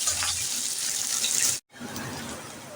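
Small pieces of chopped onion fry in a pan with a loud, continuous hiss that cuts out abruptly for a moment and then returns slightly quieter, with no one talking.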